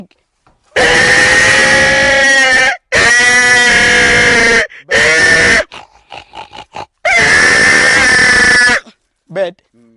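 A person imitates a pig with loud, harsh, drawn-out squealing grunts. There are three long bursts, then a pause with softer noises, then a fourth long burst.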